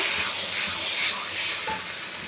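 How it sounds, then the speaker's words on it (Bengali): Taro leaves (kochu shak) being stirred as they fry in a pan, a steady close sizzle and hiss with soft scraping strokes of a spatula running throughout, no voices. "ভালো করে নেড়ে নেবো কচুর শাকটা"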